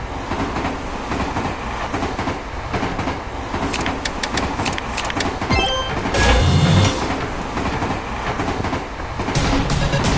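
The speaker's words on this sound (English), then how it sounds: "Cargo train?" A cargo train rolls past with a continuous rumbling roar and rhythmic clickety-clack of wheels over rail joints, swelling louder midway as it passes close, with no talking.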